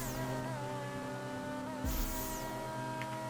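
Engine of the X80 Proto supercar in GTA 5 runs as a steady, tonal hum with a deep thump partway through.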